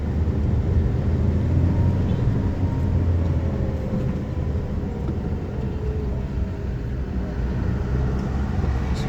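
Congested road traffic in a jam near Gelumbang on the Palembang–Prabumulih route, cars and buses idling and creeping along, a steady loud low rumble of engines throughout with no breaks.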